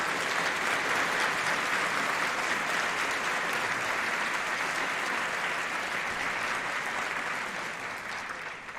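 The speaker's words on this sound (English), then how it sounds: "How about a round of applause?" Sustained audience applause at a Founders Day convocation at FSC, a dense, even wash of clapping from a large crowd that carries steadily and tapers slightly at the end.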